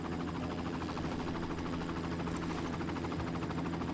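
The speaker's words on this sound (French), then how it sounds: "Ah, il est énervé l'hélicoptère." A steady, loud rotor drone with a constant whirring buzz holds throughout, a helicopter in the game Far Cry hovering close by, with no talking.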